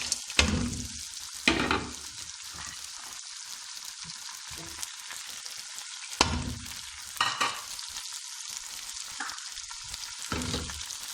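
Peas and carrots tumble into a hot frying pan of golden ginger, garlic and onion, sizzling steadily while a spoon stirs with several sharp scraping clatters scattered across the mix.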